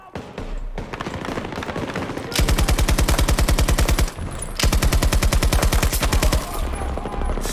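Rapid automatic gunfire in the video game Battlefield 2042, two long loud bursts of machine-gun fire with scattered shots and battle noise around them.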